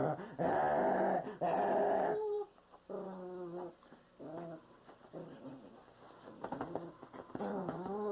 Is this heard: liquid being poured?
no